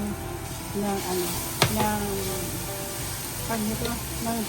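Garlic for fresh lumpia filling sizzles and hisses in a hot pan, a steady low crackle with brief clinks of stirring, while a person talks over it.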